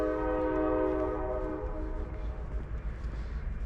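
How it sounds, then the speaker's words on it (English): A train horn sounds in a long, loud blast through woods near Cleveland Metro Parks, then fades into a low rumble of rail traffic. "Sounds like the train might be coming."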